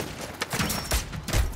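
Bursts of gunfire in the shooter video game Warzone 2.0 ranked mode, a short rapid volley with a couple of louder shots near the end, heard alone without talk.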